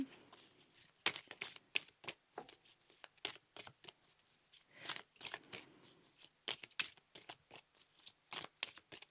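Tarot cards being shuffled at length, a run of crisp riffling bursts and soft slaps repeating in an uneven rhythm, close and fairly quiet, with no talking.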